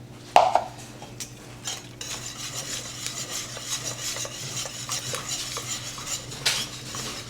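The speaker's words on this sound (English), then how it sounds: "Giving that a good stir" A utensil stirs melting cheese into a thick mac and cheese sauce in a pot, with a sharp scrape near the start, then soft, steady scraping and clinking throughout over a low background hum.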